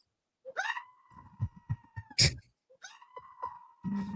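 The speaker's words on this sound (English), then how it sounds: "You know the screaming goats." Two loud goat bleats sound like human screams, each drawn out, separated by short thumps and rustling, with a sharp click between them.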